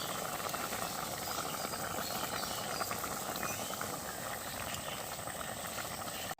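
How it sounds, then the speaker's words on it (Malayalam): Crab curry bubbles in a pot with a steady, dense boiling hiss and simmer, continuous and close throughout before an abrupt stop. "ഇനി ഒരു അരമണിക്കൂർ അത് വേവിച്ച് കുറച്ച് വെള്ളം ഒന്ന് വറ്റി വന്നാൽ ഉഷാർ"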